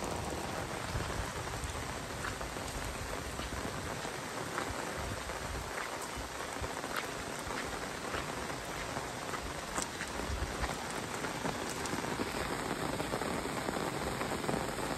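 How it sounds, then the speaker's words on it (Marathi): Heavy rain pours steadily, a dense continuous hiss with scattered drops striking close surfaces, no voices. "पाऊस काय जोरान आहे"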